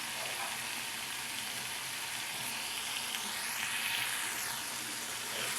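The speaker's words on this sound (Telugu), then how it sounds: "కారం వేసాక ఒక నిమిషం ఇలా ఫ్రై అవనివ్వాలి." Ridge gourd and prawn curry with chili powder frying in a pan gives a steady, bright sizzle at close range that holds for the whole stretch without talk.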